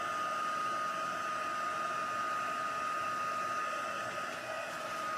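A handheld dryer drying the back of a stamped card, a steady close whirring blast of air that holds evenly throughout with only a slight dip near the end, no voices.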